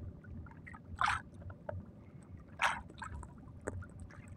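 Quiet lapping water and occasional splashes of a small fishing boat moving on Manila Bay off Navotas, with soft bursts of paddling or wake.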